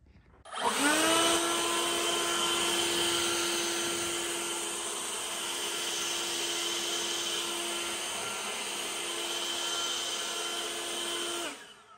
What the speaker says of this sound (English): I think this has to be the most powerful blower I've ever used